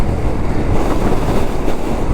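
Strong wind at a bridge roars and buffets the microphone in a continuous, loud rush with no letup.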